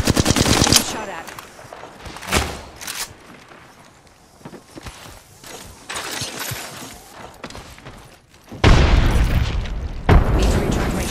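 Bursts of automatic gunfire and booming impacts ring out in the shooter game Apex Legends, loud rapid volleys at the start, in the middle and again near the end, separated by quieter stretches.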